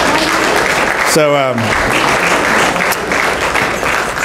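Audience clapping at a school board meeting, broad steady applause under a voice, with a short tonal squeal cutting through partway.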